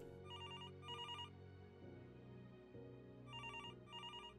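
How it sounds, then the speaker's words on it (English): A telephone ringing in a walking-simulator video game, two pairs of trilling electronic ring bursts separated by a pause, over a soft sustained musical background. "Oh, the phone is ringing."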